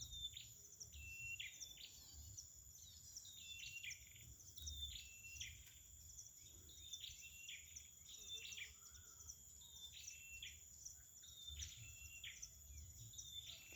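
Chestnut-headed prinias call near a bird trap cage outdoors: repeated thin, high chirping notes in a steady rhythm over a constant insect hum, faint and somewhat distant.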